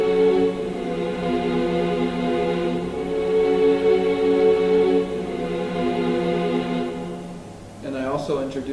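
Sustained organ chords layered with a choir in a music production, a steady held harmonic pad that fills the clip at even loudness, with a faint brighter flourish near the end.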